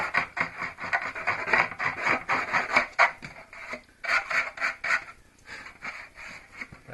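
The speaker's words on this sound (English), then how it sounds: "Just make sure when you're sanding you're not running that off the edge and scratching up the return." Hand sanding along the edges of a Stormtrooper armor shoulder bell, a close, steady rasping scrub in rapid back-and-forth strokes that pauses briefly and then resumes with no voices.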